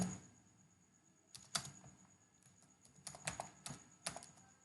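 Keys clatter on a computer keyboard as a short search is typed, with quiet isolated taps and then a few quick bursts of keystrokes, close and soft, against a faint hum.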